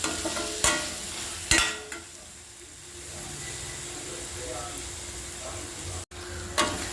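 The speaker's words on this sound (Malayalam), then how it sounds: "വഴറ്റിയെടുക്കാം." Onion and spice mixture for drumstick kurma sautéed in a pan, soft steady sizzle with sharp scraping stirs of a spoon every second or so, close and fairly quiet.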